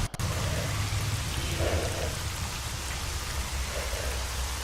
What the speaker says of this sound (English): There's a storm brewing